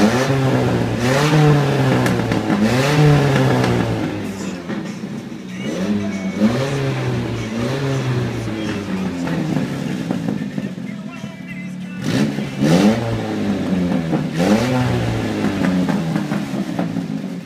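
A rear-wheel-drive Toyota AE86 Corolla exhaust revs repeatedly in sharp bursts, each rev climbing and dropping back, loud and close, with a voice talking between them.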